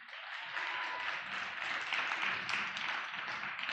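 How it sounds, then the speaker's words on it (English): An audience at a youth dialogue livestream event applauds after a performance, a thick and steady wash of clapping from start to finish. "Ladies and gentlemen, another applause,"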